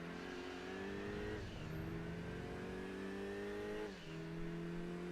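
A Mitsubishi Lancer races in Gran Turismo 2, its engine droning steadily at high revs with a couple of clear shifts in pitch as it changes gear, loud and continuous with no talking.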